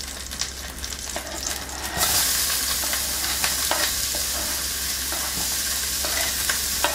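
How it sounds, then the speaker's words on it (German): Onions sizzle in fat left from browning chicken breast, a steady hiss that jumps louder partway through as they hit the pan, with occasional stirring scrapes and no voices. "brutzle einfach in dem gleichen Fett"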